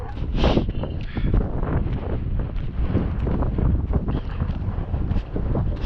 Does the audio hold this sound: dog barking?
no